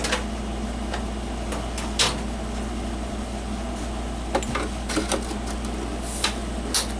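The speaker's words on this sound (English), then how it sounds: "Well, that don't budge. Try a bigger screwdriver." A screwdriver strains against a stuck screw on a Radio Shack 8-track player, giving a few scattered scraping clicks over a steady mechanical hum, close and fairly quiet.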